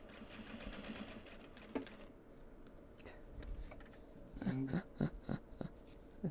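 A sewing machine stitches an obi being upcycled into a bag, running in a fast rapid-fire burst at first, then pausing before shorter uneven runs and clicks, close and fairly quiet.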